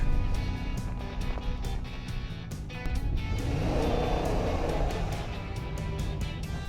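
A 2018 Ram 1500 Crew 4x4 Limited pickup drives on sheer ice, its engine a steady low rumble that swells as it accelerates, with faint rhythmic tapping noises from the vehicle, heard close and continuous.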